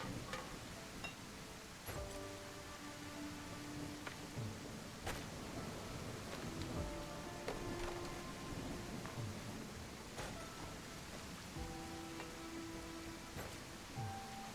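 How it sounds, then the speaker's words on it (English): Rain falling steadily in the island-restoration video game Restore Your Island, a constant soft hiss with scattered patters and crackles throughout, fairly quiet and unbroken, no talking. "the fact that it's raining as well just adds to the gloom"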